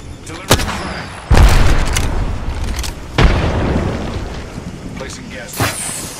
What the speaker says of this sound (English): Delivering frag.